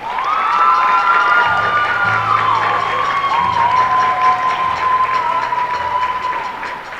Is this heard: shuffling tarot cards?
no